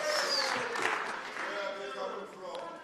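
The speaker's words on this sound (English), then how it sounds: "I wish this could get a very thunderous applause." Applause rises from members in a provincial legislature during a budget speech sitting, a steady spread of clapping that fades slightly, with a voice calling out over it.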